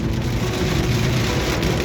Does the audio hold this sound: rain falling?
yes